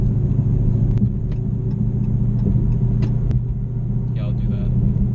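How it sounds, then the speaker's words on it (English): A 2016 Dodge Challenger Hellcat with a six-speed manual cruises with its windows down, its exhaust giving a steady, deep, loud rumble, with a few faint clicks over the drone. "let you guys hear this exhaust, because this car sounds amazing"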